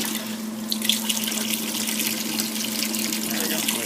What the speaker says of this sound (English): You can hear the water pump running in the background.